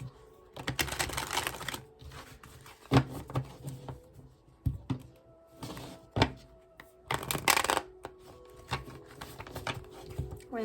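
A deck of Visions of Life tarot cards being shuffled by hand in repeated riffling bursts and soft slaps, close and fairly loud, with quiet gaps between the shuffles.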